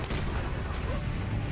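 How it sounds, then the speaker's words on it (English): A heavy cannon fires in Serious Sam 4 amid dense, booming in-game combat, with a thick rumbling wash of explosions and impacts that stays loud and steady across the whole moment. "Can't go wrong with the cannon."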